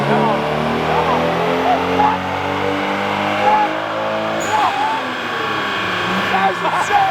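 A car engine revving hard on a dyno on 110 octane race fuel, a loud sustained roar with the pitch climbing and shifting, and voices shouting over it.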